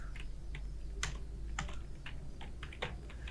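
Keys clatter on a computer keyboard as someone types a short search in a web browser, irregular soft clicks in quick bursts over a constant low electrical hum, fairly close and moderately quiet.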